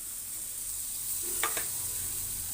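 Peanuts frying in a pan give off a steady, quiet sizzling hiss, broken midway by a couple of short clinks of a utensil.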